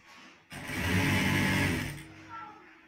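A sewing machine stitches a gents pant belt in one close, loud burst of rapid stitching that lasts about a second and a half, with quieter handling sounds before and after.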